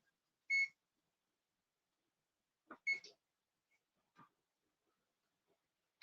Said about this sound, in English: Beeped and it was just in time to put it on.